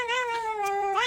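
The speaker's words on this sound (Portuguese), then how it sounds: "Essa mulher começou a cantar e o gato cantou igualzinho." A cat meows in a long, drawn-out, wavering tone, gliding down and back up like a sung note, with no other sound around it.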